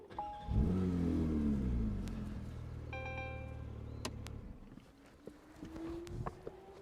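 A Porsche 992 GT3 engine cranks and fires up with a loud flare of revs, then settles into a steady idle before fading, with faint clicks and clatter nearby.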